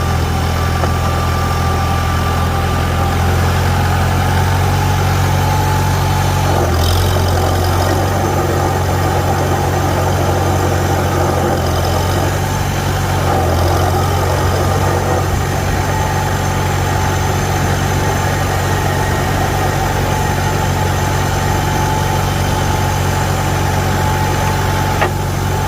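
A 1949 Farmall Super A tractor engine runs continuously, a loud, close, steady rumbling idle with a slightly shaky, uneven throb and occasional rattles, no voices over it.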